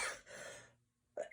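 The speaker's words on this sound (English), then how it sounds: "I was almost through an entire video without coughing in your ears." A single cough comes after a sigh-like breath, close and soft in a quiet room.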